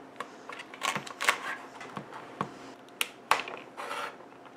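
A knife chopping drumstick pods into long pieces on a board, a series of sharp irregular clicks and taps, close and fairly quiet with no talking.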